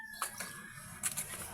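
Chickens in a backyard flock in San Pedro, Laguna, clucking in short bursts close by, with a few sharper calls standing out over a low rustling background.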